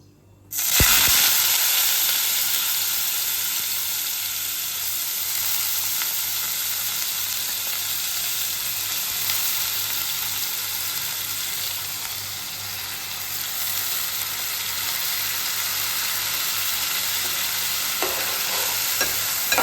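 Washed rice frying in ghee for pongal, a loud continuous close sizzle that holds steady throughout, with faint stirring scrapes and no talk.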